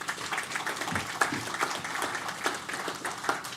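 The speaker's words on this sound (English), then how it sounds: "Give them a round of applause." Audience applause at the official opening of a national exhibition for an underwater park, steady mid-sized clapping from a crowd in a hall, continuous and fairly even throughout.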